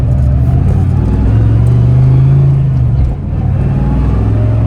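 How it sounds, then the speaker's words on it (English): A car fitted with a 500HP T5 manual transmission runs loud and steady, its engine drone and gear whine holding close and continuous with only a slight dip near the end, no voices. "It's going through first, second, third, fourth gear"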